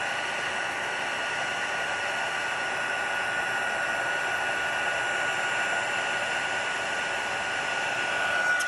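A heat tool blows in a steady, close, loud whoosh without a break while it melts embossing powder on a smoky slate card.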